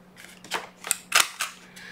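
Several sharp mechanical clicks and snaps from an old corner rounder punch cutting paper, close up and unevenly spaced, with no talking.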